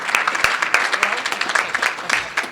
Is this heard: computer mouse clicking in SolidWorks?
no